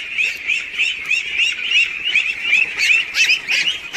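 A crowd of about 1500 ducks on a farm squawks and quacks continuously, many overlapping calls in a busy, loud chorus close by.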